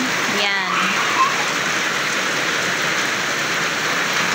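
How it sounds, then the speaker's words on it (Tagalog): Steady heavy rain hisses throughout at a constant loud level, with a brief voice-like tone near the start. "Malakas yung ulan."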